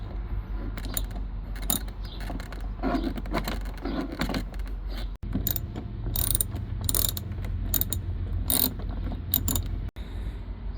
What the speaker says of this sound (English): now to remove these two screws you will need a torx T30 socket, extension, and a ratchet